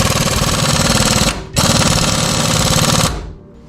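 An air impact wrench hammers loudly at close range on the 17mm caliper bracket bolts of a Toyota 4Runner front brake, running in two long dense bursts separated by a brief pause.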